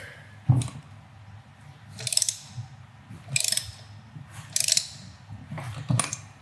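A ratchet wrench loosens thread-locked front brake rotor bolts on a Kawasaki Ninja 400, with a close, rhythmic series of clicking bursts separated by short pauses.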